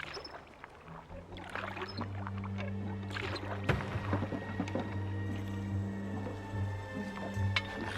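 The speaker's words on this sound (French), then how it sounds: "C'est quelqu'un qui rame sur la Tamise." Oars dip and splash rhythmically as someone rows a boat on the Thames at night, quiet watery strokes and drips over a low steady hum, fairly close and unhurried.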